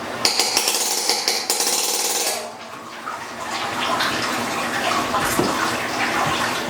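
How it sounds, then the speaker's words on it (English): Brewing liquid pours and splashes out of a hoisted mash basket during a brown ale brew day, starting with a harsh clanking rattle and then settling into a steady, close, continuous drain with no voices. "if I let this liquid drain out some as I hoist, it's less strain on my hoist"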